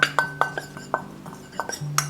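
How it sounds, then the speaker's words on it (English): Spices such as nutmeg, paprika, white pepper and salt stirred in a pan for homemade Japanese curry roux, a utensil scraping and clinking against the pan in quick irregular taps, close and fairly loud. "And don't forget to stir."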